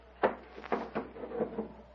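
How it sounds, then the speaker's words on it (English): A door is pulled shut in an old radio drama: a quick wooden knock followed by several softer thumps and rattles, close and fairly quiet, with no talk over it. "Close that door"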